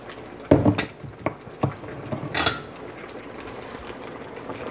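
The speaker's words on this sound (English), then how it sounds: "Let's give it a good mix." Igado stirred in a pan: a few clinking scrapes and wet stirring knocks, close and moderately loud, spaced irregularly over a quiet background.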